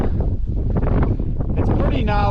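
Strong gusting wind on coastal cliffs buffets the microphone with a low, rumbling roar that swells and eases throughout.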